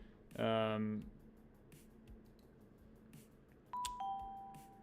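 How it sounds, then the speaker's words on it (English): A short chime rings once, then after a pause a second doorbell tone sounds with a lingering ring, clear over a quiet room during a live trading-card pack-opening stream. "we got a little doorbell ring there."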